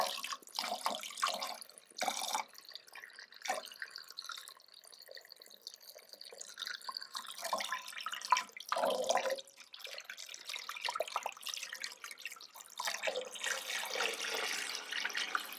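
Fresh hot water runs and splashes into the tank of a Central Machinery 6-liter ultrasonic cleaner, a steady close trickle and pour with a few brief drips and gurgles, alone without talk.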